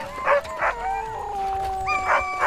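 Sled dogs at a snowy bivouac camp yelp and howl in short bursts and drawn-out wavering howls, fairly close, several animals overlapping.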